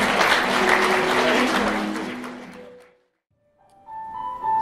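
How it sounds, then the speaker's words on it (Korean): Wedding guests applaud loudly as the bride slips a ring onto the groom's finger. The dense clapping fades out into brief silence, and then faint tones and murmurs begin. "큰 박수 부탁드리도록 하겠습니다"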